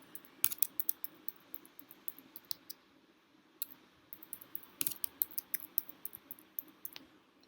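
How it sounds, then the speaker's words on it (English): A username and password being typed on a computer keyboard, with light, quick key clicks in irregular bursts, close but faint against a quiet background, no voice. "Type the username and password"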